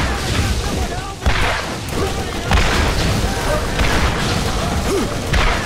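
Rocket launcher fire and booming explosions during a rocket battle in the game Borderlands, a dense, continuous barrage of blasts and crashes with a few sharper booms standing out.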